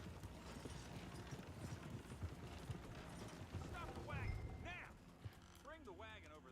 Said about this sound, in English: Okay, so it's Crazy Horse without rider.